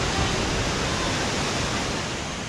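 Small waterfall on a rocky hillside at Badiyargarh, a steady broadband rush of falling water, constant and fairly close with no other sounds.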